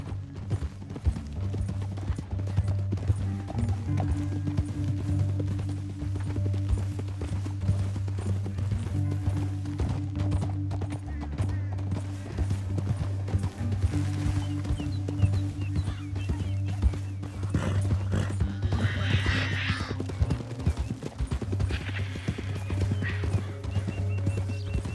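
Horses gallop in Red Dead Redemption 2, a steady drumming of hoofbeats running continuously under a low rumbling score, with an occasional neigh and brief voices partway through.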